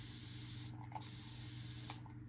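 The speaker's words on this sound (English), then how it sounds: "I'm going to spray my paper" Water misted from a spray bottle onto watercolor paper, heard as two close, steady hissing bursts separated by a short pause with faint clicks.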